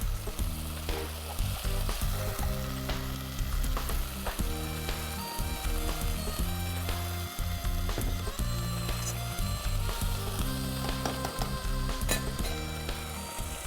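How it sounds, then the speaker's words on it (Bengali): Spice paste with cashew paste sizzles steadily in a pan while shrimp korma is cooked, a loud, dense frying hiss with occasional clinks and stirring scrapes throughout. "একটু একটু পানি দিয়ে মশলাটা কষিয়ে নিতে হয়"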